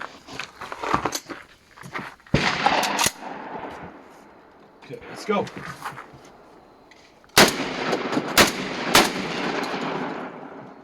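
A Panzer BP12 2nd Gen shotgun fires in a few sharp bursts, the loudest shots coming close together near the end, with brief talk before the shooting starts.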